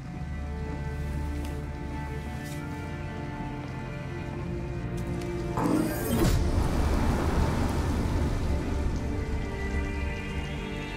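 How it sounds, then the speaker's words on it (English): Heavy rain pours steadily in Detroit: Become Human, a continuous dense hiss that swells louder midway and keeps going with no voices. "And it's pouring rain."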